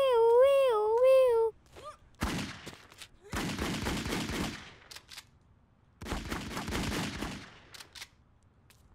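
Video game gunfire from a freshly picked-up gun: two long, dense bursts of rapid shots, loud and close, after a short stretch of a high sing-song voice.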